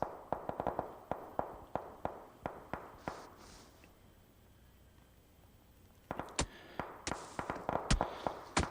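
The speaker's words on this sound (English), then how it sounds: "We heard those gunshots." Gunfire in a PUBG esports league match: rapid volleys of sharp cracks, first in a steady rhythm, then a quiet pause of a few seconds, then another burst of shots.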